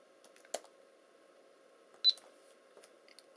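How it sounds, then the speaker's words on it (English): A single short electronic beep from an Alienware M17x R1 laptop during a GPU repair, faint and clear above a quiet background hum, with a few small clicks around it. "There is a beep to show that it's doing something."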